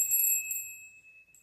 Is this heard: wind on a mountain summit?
no